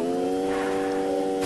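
Car engine revving in the Free Fire video game, a steady harmonic engine drone held at constant pitch for a short burst, fairly loud and alone, with no speech.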